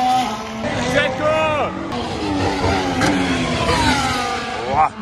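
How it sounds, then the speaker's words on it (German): A Formula 1 car with a Honda engine passes during practice at the Hungarian Grand Prix, a high-pitched engine whine sweeping by amid crowd chatter and nearby voices. "Also der Honda-Motor, der schallert so anders."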